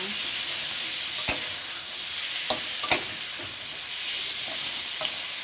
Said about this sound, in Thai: แล้วใส่หมูลงไปนะคะ ผัดให้หมูสุกนะคะ